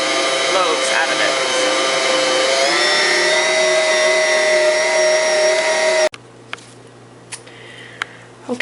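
An electric mixer kneads bread dough with a steady whirring motor drone that holds for about six seconds, then cuts off abruptly, leaving faint ticks and clatter in a quiet kitchen.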